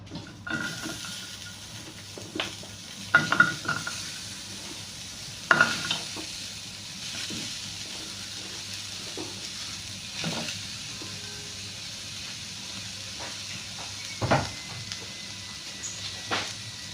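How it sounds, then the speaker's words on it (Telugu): Onions fry in a pan for a drumstick curry, with a low hissing sizzle under repeated stirring knocks and scrapes of a spoon against the pan, sounding close with no talking. "ఇప్పుడు మనం ఆనియన్స్ వేసుకుందాం"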